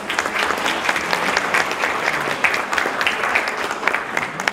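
Audience applause at a talent show held by a Croatian muscular dystrophy association: a full, sustained round of clapping from a crowd in a hall, loud and continuous.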